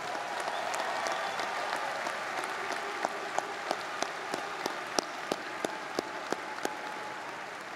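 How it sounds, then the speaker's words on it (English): Commencement audience at a university graduation ceremony applauding family and friends, a steady wash of many hands clapping from a large crowd, with sharper nearby claps standing out in the second half. "Let's give another round of applause for family and friends."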